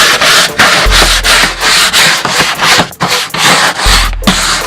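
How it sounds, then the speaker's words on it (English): A small scrubbing brush scours a car interior surface in quick, rhythmic back-and-forth strokes, loud and close, each stroke a harsh rasping burst with brief gaps between, and no voices. "Now I'm going over it with a little scrubbing brush, just like this."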